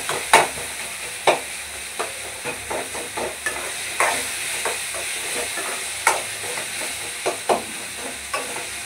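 Tomatoes stir-fried with small dried fish in a pan: a steady hiss of sizzling oil broken by a dozen sharp, irregular scraping strokes of the spatula, close and fairly loud, with no voices.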